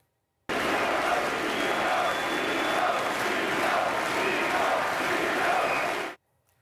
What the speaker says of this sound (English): The chants for a beloved Vancouver Canuck were loud and clear at Rogers Arena tonight.